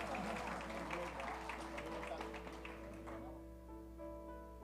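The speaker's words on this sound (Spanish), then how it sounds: "Un fuerte aplauso para quienes año tras año han demostrado su orgullo de" Applause from an audience at a monthly meeting honoring long-standing members fills the room with steady clapping that fades and thins over several seconds, with a voice talking beneath it.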